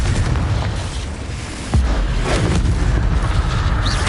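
A Confringo fire blast spell goes off in Hogwarts Legacy: one heavy, sudden boom over a constant rumbling background, followed by a lingering low roar.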